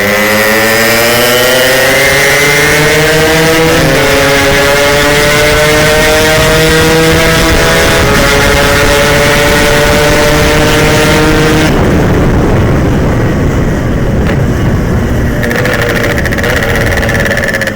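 A Yamaha RX King motorcycle runs at full throttle, its engine howling loud and close as the pitch climbs and drops through repeated gear changes before easing off near the end.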